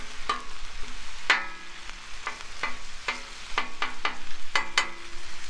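Meat browning on a Blackstone flat-top griddle for nachos, a steady close sizzle broken by repeated sharp scrapes and clacks of a spatula turning and stirring the pieces.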